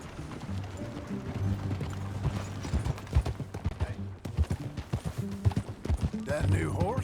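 Horse hooves clip-clopping steadily in Red Dead Redemption 2, close and rhythmic, with tack creaking and a brief whinny near the end, while voices talk over the ride.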